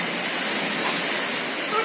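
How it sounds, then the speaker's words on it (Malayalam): Rain falls steadily outside, a continuous broad hiss at an even level with no distinct drops or voices. "പുറത്ത് നല്ല മഴയാണേ."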